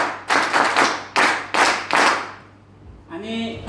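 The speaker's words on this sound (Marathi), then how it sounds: "तुमच्या शुभेच्छेसाठी आम्ही एक मोठी टाळी वाजवू इच्छितो" A group claps in time at a vote-of-thanks gathering, giving five strong bursts of hand claps that fade out before a voice begins to speak.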